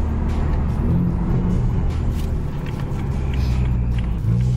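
A BMW 335is with a turbo kit driving along, giving a steady, loud cabin engine drone and road rumble with faint whirring on top, no speech.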